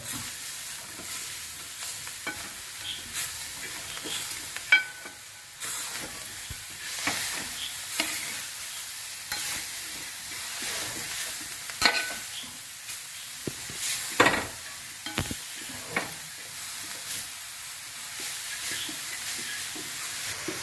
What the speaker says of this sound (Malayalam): തേങ്ങ ഒന്ന് ചൂടായി കഴിയുമ്പോൾ നമുക്ക് തഴുതാമ ഇട്ട് കൊടുക്കാം